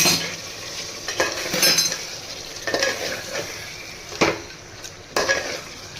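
Mutton with yogurt sautéed in a pan for korma, a steady sizzle under repeated scraping and clinking of a spoon against the pan, loud and close with no talking.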